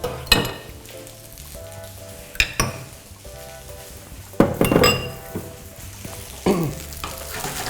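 Shrimp curry-powder fried rice being stir-fried in a wok, a steady sizzle broken by several sharp metal spatula scrapes and clanks against the pan, coming in uneven bursts; no voices.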